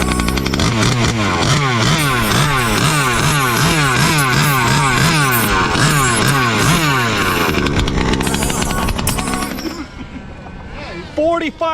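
A 45cc Baja minibike engine fires up and runs with a loud, buzzy, rhythmic two-stroke putter close by, settling and then cutting out near the end, with a person talking over it.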